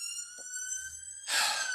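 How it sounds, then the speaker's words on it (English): Sirens on a main road, a brief steady electronic wail from an emergency vehicle at moderate distance, with a soft breathy rush near the end. "You have to excuse the sirens."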